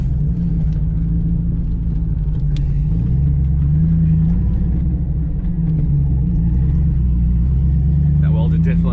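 A V8-swapped Volvo with a welded differential and a grabbing clutch drives along, its engine giving a steady low rumble that swells slightly mid-drive, with a voice talking over it.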